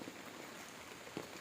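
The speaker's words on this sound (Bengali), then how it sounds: "প্রচুর বৃষ্টি।" Heavy monsoon rain drumming on an umbrella held over people walking outdoors, a steady dense hiss of drops with one brief louder patter, close and continuous, with no talking.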